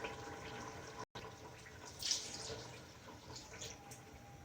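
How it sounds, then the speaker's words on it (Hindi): Water pours into a pot of mutton korma, a soft splashing trickle at low level with a brief cut near the start, heard close by in a kitchen. "अब इसमें पानी डालेंगे।"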